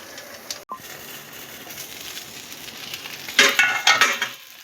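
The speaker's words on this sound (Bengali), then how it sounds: "এইভাবে দুপাশই ভেজে নেব" Bhetki fish wrapped in banana leaf with mustard paste fries in a covered pan, giving a steady soft sizzle with a short clatter near the start and louder bursts of crackle toward the end.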